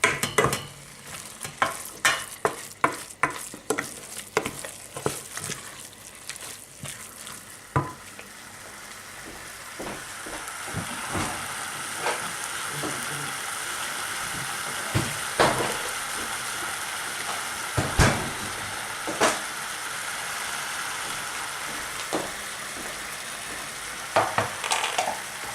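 Over half a kilo of minced meat sizzles and fries in a pan with clattering spoon scrapes and stirring knocks, busy at first, then a steady crackling sizzle with occasional taps.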